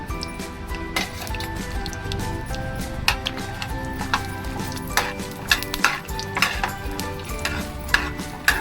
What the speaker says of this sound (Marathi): शेंगदाणे तळून घेऊया.